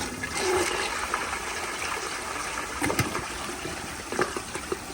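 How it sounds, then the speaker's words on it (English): An overfilled tank on a 2020 Seasons kindergarten toilet flushes hard in a powerful blowout, a loud steady rush of gushing water with sharp gurgles and splashes running throughout, close and without talking. "So here is an overpowered flush"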